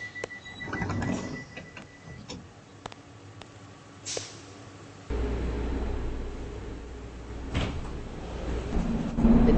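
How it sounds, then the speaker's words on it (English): Train doors slide shut in the Roblox game Spark City, a mechanical closing sound followed by a steady low rumble as the train sits ready to move. "Stand clear of the closing doors."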